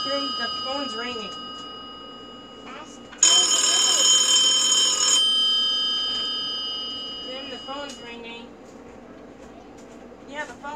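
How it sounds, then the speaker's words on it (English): A telephone rings in a burst of bright electronic tone lasting about two seconds in the middle, with voices talking before and after it in a room with a steady background hum. "the phone's ringing."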